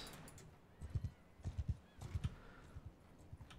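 Horse hooves clip-clop at a steady walk in the Mount and Blade 2 video game, several soft thuds in clusters with faint background ambience and no talk.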